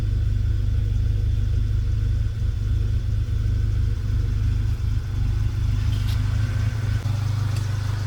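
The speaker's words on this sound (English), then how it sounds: "All right, we got her idling." A Volkswagen GTI engine idles steadily during a DSG fluid change, with a low, continuous rumble and occasional faint clatter, no voices.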